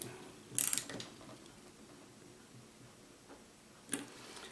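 Two brief, faint bursts of ratcheting clicks, about three seconds apart, come from a part being tightened on an Evinrude outboard carburetor during a rebuild, with quiet room tone between them.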